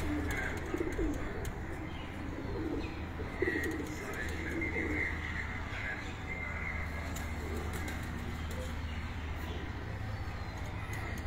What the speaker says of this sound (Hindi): ये सारे शर्मीली ब्रीड के ये कबूतर हैं